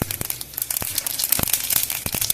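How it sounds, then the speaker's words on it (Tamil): Mustard seeds splutter and pop in hot oil in a pan for tempering, a dense run of sharp crackles and snaps at close range. "கடுகு போடுறேன். கடுகு வெடிக்கட்டும்."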